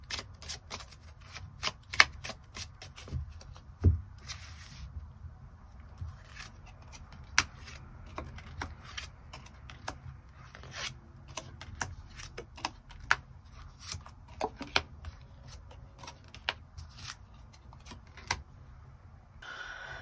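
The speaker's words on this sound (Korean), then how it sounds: "1번 분들 추가 카드로 일별로 월요일부터 일요일까지 어떤 일들이 있을지 추가 카드 뽑아보도록 하겠습니다" Tarot cards being shuffled and drawn, with a steady papery riffle and a run of sharp slaps and flicks as cards are laid down, close and fairly quiet, with no talking.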